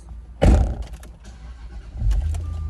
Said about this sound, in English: So let's jump in and take it for a little spin, get some driving impressions.